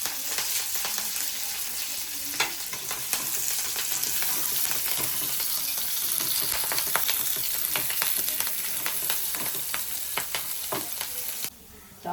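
Curry leaves sizzle and crackle steadily in hot oil for a Palakkad-style horse gram curry, with sharp pops scattered through a constant frying hiss.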